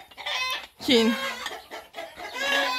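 Roosters in a rural yard give loud, close crows and throaty clucks in uneven bursts, and a person is talking briefly among the calls.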